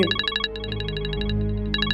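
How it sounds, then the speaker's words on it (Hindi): Phone ringtone of an incoming call chimes in quick repeated bursts of bright electronic tones, with a short pause near the middle before the pattern resumes, loud and close with no talking. "आंटी का फोन आ"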